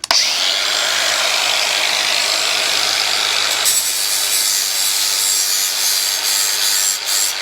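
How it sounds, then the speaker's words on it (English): A blade from a Troy-Bilt Pony riding mower gets its edge ground back along the factory angle, producing a steady, loud, close abrasive rasp that runs unbroken for several seconds with no voices. "I'm just gonna go ahead and just put an edge on it, follow along the same angle that they've already got it, and I'll take off a bit of material"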